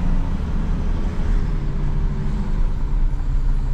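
A steady quad bike engine drone rumbles throughout at constant volume, low and rough, running nearby on a beach.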